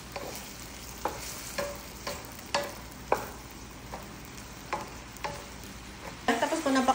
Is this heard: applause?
no